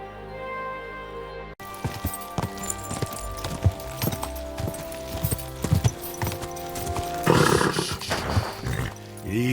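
Horse hooves clip-clop in Kingdom Come: Deliverance II, a series of close, distinct hoof strikes at a walking pace over low ambient sound, with a louder rustling burst near the end.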